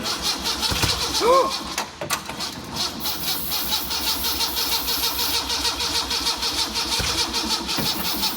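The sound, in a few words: engine starting up and running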